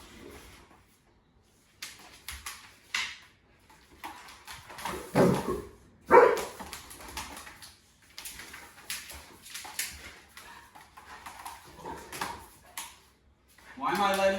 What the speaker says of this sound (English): There's some growling in there, which will probably stop.